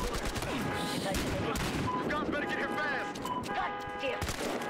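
Gunfire in the video game Battlefield Hardline, a dense continuous barrage of shots packed with game effects and tonal sounds, loud and sustained throughout.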